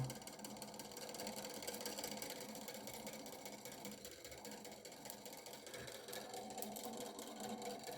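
A Draksler string pulse motor runs with a steady, faint mechanical whir and fine rapid ticking, a continuous buzzing drone alone at low level throughout.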